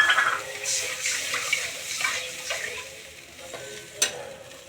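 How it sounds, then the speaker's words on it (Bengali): Water is poured into a pan of fish curry with tomato, turmeric and salt, hissing and sizzling against the hot oil in a close burst that settles into softer bubbling, with faint stirring clicks. "এবার একটু জল ঢেলে দিলাম।"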